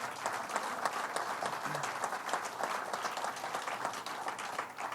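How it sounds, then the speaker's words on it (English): A crowd at a governor's announcement about the IndyCar Grand Prix returning to Watkins Glen applauds Senator O'Mara with sustained, even applause from many hands, moderately loud and continuous. "let's give him a big round of applause"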